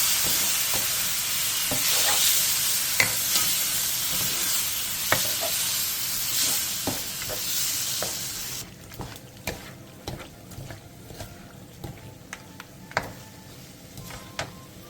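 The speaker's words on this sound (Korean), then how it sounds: "센 불에서 볶아주세요." Marinated octopus stir-fried with onion over high heat: loud, continuous sizzling and hissing with frequent scraping and clicking strokes of a spatula against the pan, the sizzle easing noticeably partway through, close up with no talking.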